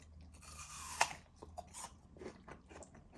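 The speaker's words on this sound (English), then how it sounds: "So crunchy this apple is." Someone bites into a crunchy apple and chews it, one sharp close crunch followed by softer, wet chewing crunches, quiet and alone.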